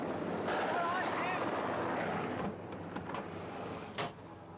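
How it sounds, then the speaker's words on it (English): A wind sound effect from a 1981 television advert for double glazing: a loud, rushing whoosh for a couple of seconds that then drops to a softer, steadier hiss. "Don't panic, that's just Jim bringing the wind."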